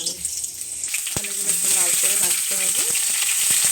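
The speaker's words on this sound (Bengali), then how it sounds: "আলু আলুগুলো একটু লাল করে ভাজতে হবে" Potatoes fry in hot mustard oil in a wok with a steady, bright sizzle throughout, while some clattering and scraping sounds come through near the middle.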